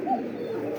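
A pair of Muffed Helmet pigeons at a fancy pigeon farm coos in a soft, steady, low rolling murmur close by, with no talking.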